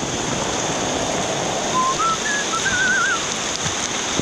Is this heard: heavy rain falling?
yes